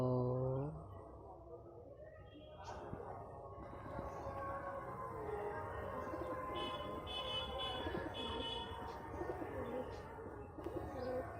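Pigeons perched in a tree outside their loft give soft, low cooing calls, with a few chirps and faint distant background noise throughout, heard outdoors at moderate distance.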